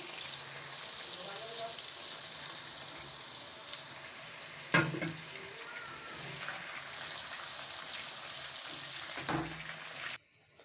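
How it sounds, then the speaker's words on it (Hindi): Potatoes fry in hot oil in a karahi for a dhaba-style potato karahi, a steady close sizzle running throughout with a few brief stirring knocks before cutting off at the end. "आलूओं को हमने 2 से 3 मिनट फ्राई किया है"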